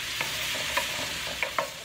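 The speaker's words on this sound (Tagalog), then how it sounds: "Haluin natin." Tomato paste is stirred in a cooking pot over a steady sizzle, with a few distinct scraping knocks of the spoon against the pot, close and moderately quiet with no talking.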